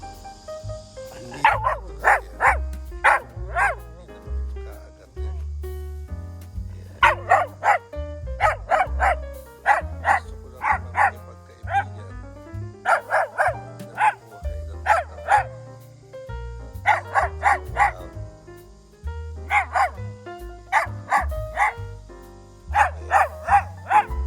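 A dog barks repeatedly in quick bursts of two to four sharp yaps, separated by short pauses, close and clear over low background sounds across the whole stretch.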